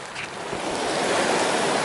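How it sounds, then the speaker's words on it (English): A mountain stream swollen by overnight rain rushes as a steady, loud broadband hiss of water, close and continuous with no talk. "If you're hearing all that white noise, that is the stream."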